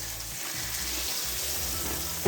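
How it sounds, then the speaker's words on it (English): Pieces of Swiss steak sear in a hot pan as they brown on both sides, giving a loud, steady sizzle that holds unbroken throughout, with a small clatter at the very end. "We just want to brown them on both sides. Kind of sear in some of those juices."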